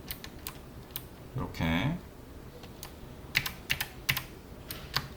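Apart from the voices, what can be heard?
computer keyboard and mouse clicks in ZBrush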